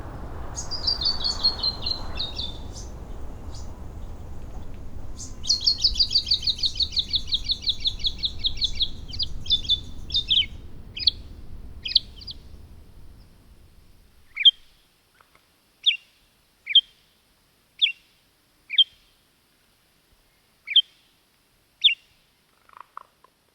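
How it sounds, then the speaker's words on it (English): Bright, high chirping song of a western spinebill with trilled phrases over a low rumbling background; later, isolated sharp chirps repeat at spaced intervals in near silence. "my animal totem is the western spinebill, which is the little yurta bird"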